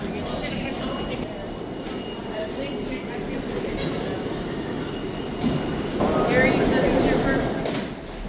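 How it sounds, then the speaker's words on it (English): Rumbling ride aboard a New York City E train subway car heading downtown, with steady wheel and track roar throughout that swells louder near the end, while people talk over the noise. "It's our first time on a subway."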